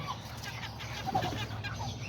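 A serama chicken clucks softly among backyard fowl, a few quiet, low clucks over faint steady background noise.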